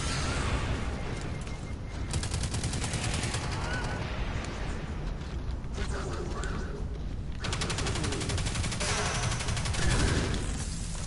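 Rapid automatic SMG fire in Destiny 2, rattling in continuous close, loud bursts with brief gaps, layered with other game weapon sounds throughout.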